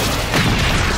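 Energy blast attack effect from the Power Rangers Dino Charge series, a loud, dense one-second burst of booming, crackling noise that swells slightly midway and fills the whole moment without any talk.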